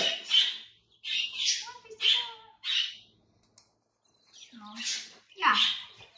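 Baby chicks peep and chirp in shrill, high bursts that come in several close clusters with short pauses between them, near and fairly loud.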